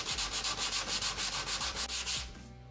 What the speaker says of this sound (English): but sand it a bit